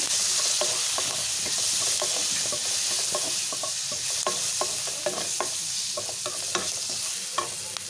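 Tomato curry frying in a pan as curry leaves and turmeric are stirred in: a steady loud sizzle with repeated scraping strokes of a spoon throughout, no voices.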